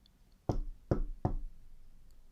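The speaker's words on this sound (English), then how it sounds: "She knocked quietly on the door." Quiet knocking on a door: three soft, evenly spaced knocks, close and isolated against a near-silent background.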